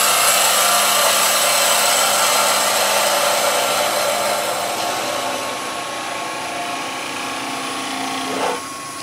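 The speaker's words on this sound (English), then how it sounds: "Then we're going to tidy up the top edge. Again, we can do that with a skew." Skew chisel trimming the top edge of a wooden Christmas nutcracker part spinning on a wood lathe: a steady, loud whirring hiss of motor and cutting that runs throughout, easing slightly toward the end before a brief scrape.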